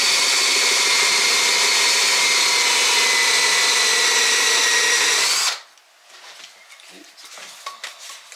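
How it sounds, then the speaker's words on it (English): A power drill bores into wood for a coat rack, a loud continuous whirring whine for about five seconds that stops abruptly, leaving quiet room noise with faint clatter. "So Chris also drilled, where is it, pilot holes"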